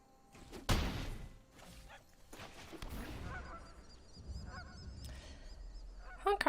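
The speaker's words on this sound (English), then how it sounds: "I love the goose sounds. They make me happy." Goose honks ring out as sound effects in the MTG Arena card game, several loud nasal honks in a cluster amid soft thumps and swishes, with no talking.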